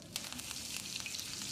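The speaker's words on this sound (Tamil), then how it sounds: "கடுகு பொரிஞ்சிருச்சு" Mustard seeds splutter in hot oil, a close hissing sizzle dotted with rapid little pops and crackles.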